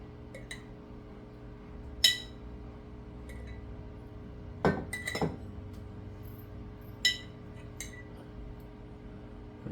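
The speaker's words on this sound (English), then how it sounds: "scoop out what you can. Sometimes you need a little smaller spoon." A spoon scooping the top mat out of a jar of homemade lactic acid bacteria culture, heard as a few sparse, sharp clinks of metal on glass spaced over a quiet background.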